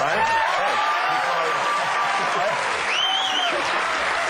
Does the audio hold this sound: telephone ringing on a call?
no